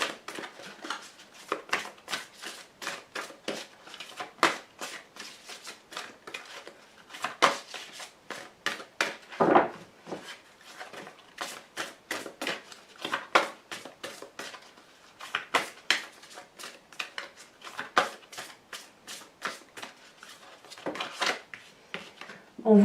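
Tarot cards being shuffled and drawn: a long run of quick, close, papery flicks and snaps in uneven bursts, with short pauses between clusters and no talk.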